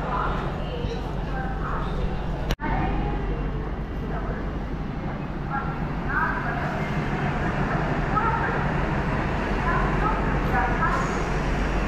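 A DEMU passenger train on the Trichy to Velankanni line runs with a steady, loud rumble of wheels and carriage noise throughout, with voices chattering in the coach and one sharp knock partway through.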